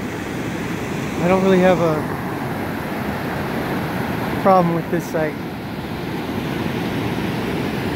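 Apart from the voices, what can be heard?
cascading water at Evolution Creek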